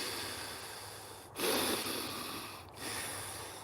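Deep breaths drawn in and pushed out in a relaxation breathing technique, two distinct close airy breaths a little over a second apart over a steady background hiss.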